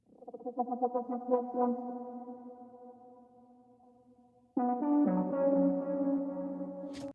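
A synth lead in a deep house track plays alone, starting as a pulsing, wobbling tone that gradually steadies and fades, then jumps to a louder, brighter sustained note with rich harmonics and effects.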